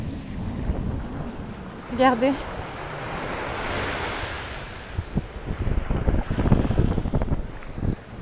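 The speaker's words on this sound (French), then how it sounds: "il y a du vent parce que je m'approche de l'eau" Strong wind blows by the sea at Argelès, roaring against the microphone over crashing surf. Someone speaks briefly and then again under the steady gusts.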